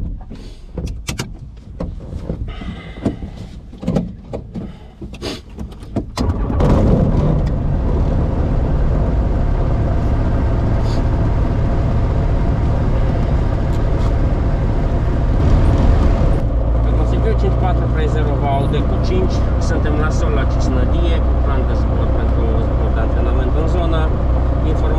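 An Apollo Fox ultralight aircraft's engine starts about six seconds in and then runs steadily and loudly to the end, a deep continuous drone, after a stretch of preflight voices and small handling noises.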